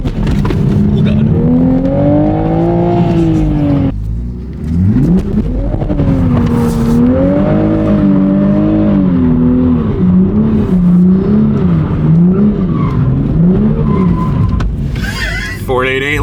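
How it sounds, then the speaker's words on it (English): A Toyota A90 Supra fitted with a Ford 8.8 limited-slip differential launches and drifts, its engine revving loud and close in rising and falling surges, with tires squealing and a voice shouting near the end. "How not to launch a Supra."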